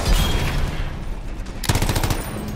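Heavy automatic weapons fire in the sci-fi shooter Anthem, dense and loud throughout, with a sharper burst of rapid shots near the end.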